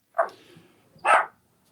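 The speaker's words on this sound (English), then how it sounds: "Is that dog away?" A dog gives two sharp, close barks about a second apart, with near silence around them.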